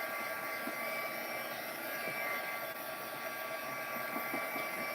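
Steady, loud whirring hair dryer blowing continuously over a craft project in a home craft room, a constant airy drone filling the whole stretch with no talk over it.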